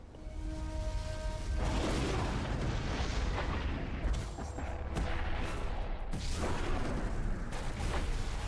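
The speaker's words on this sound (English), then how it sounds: "I love them just indiscriminately shooting into the jungle." Dense, continuous barrage of gunfire and booming blasts in Guild Wars 2, loud and sustained throughout as weapons fire indiscriminately into a jungle, with layered impacts and no speech.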